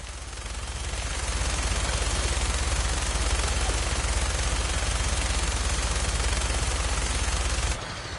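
Sustained rapid gunfire from a helicopter-mounted gun in Fallout 4, a dense continuous rattle of rounds over engine drone lasting several seconds before abruptly stopping.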